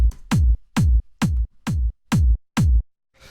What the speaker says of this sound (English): So you can hear it's just beefs up the kick, makes it a little bit fatter